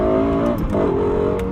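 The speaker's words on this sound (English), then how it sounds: "Tuning engineers spent years tirelessly perfecting the engine and exhaust notes to fit this vision." Lexus LFA engine and exhaust note revving, a loud sustained harmonic howl that dips and climbs in pitch as the revs change, close and steady throughout.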